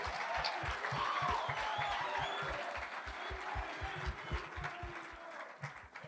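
An audience claps at a youth gathering, a soft, continuous patter of many hands. Quiet, regular low thumps run beneath it.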